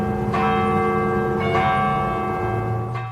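A church bell rings three times at an even pace, and its long ringing tone lingers between strikes.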